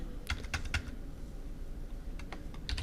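Short bursts of keystrokes on a computer keyboard, a quick cluster of clicks near the start and another near the end with a quiet pause between, close and clear with no talking.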